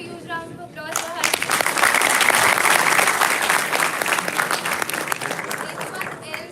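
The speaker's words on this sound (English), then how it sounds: "Can we have a huge round of applause for her?" A conference audience at a Google Cloud Community Day in Nagpur breaks into loud, sustained applause after a brief voice at the start, the dense clapping holding steady for several seconds before thinning slightly.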